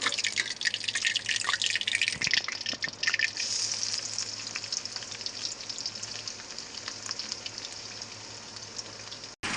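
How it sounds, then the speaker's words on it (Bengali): Chopped onion and whole garam masala fry in oil, a bright, dense sizzle with popping drips that is loudest at first and then settles into a steady crackle, close up. "পেঁয়াজ কুচিটা দিয়ে পেঁয়াজটা আমি লাল লাল করে একটু ভেজে নেব।"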